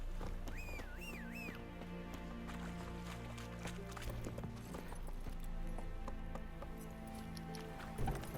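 Rhythmic hoofbeats of a horse galloping in the video game Witcher 3, steady and fairly close under a layer of game music and ambience, with a brief whistling tone near the start.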